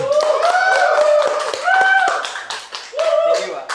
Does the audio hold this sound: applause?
yes